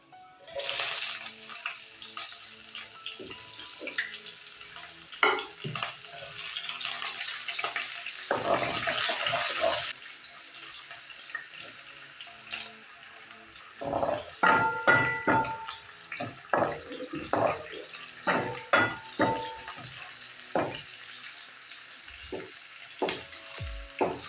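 Onions frying in a pan while cooking spaghetti with beef, a soft sizzle under intermittent clattering and stirring knocks, with a stronger hiss burst early on.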